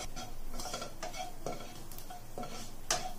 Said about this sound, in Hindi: उसके अंदर हम ये गार्लिक डालेंगे जरा सा 1 टीस्पून। जरा सा सौते करेंगे